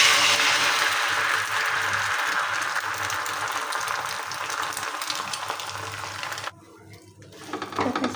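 An egg fries in a pan with a continuous, fairly loud hiss and sizzle for several seconds. It thins out briefly near the end, then swells back up.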